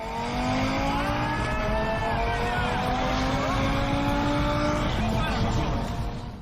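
Tesla Model 3 Performance accelerating hard, a loud, continuous electric motor whine rising steadily in pitch, heard from close by, with road and wind noise underneath.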